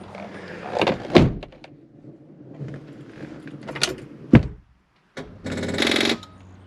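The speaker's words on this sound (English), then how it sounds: "You think it would help if I close the door?" Someone opens and shuts the door of a dirty, long-neglected Ford SVT Cobra, giving a few sharp, close thunks and latch clicks separated by quiet gaps, with a rattly burst at the end.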